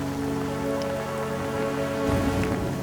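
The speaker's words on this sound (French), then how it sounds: "C'est la pluie, de la vraie pluie pour la première fois du voyage." Steady rain falls on a mountain road in Albania, a dense, even hiss of drops close by that grows heavier and rougher toward the end, with no voices.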